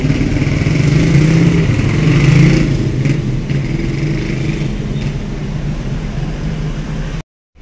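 Motorcycles pass at night at a ferry crossing inspection gate, their engines rumbling loud and close, swelling briefly before easing off, then cutting out near the end.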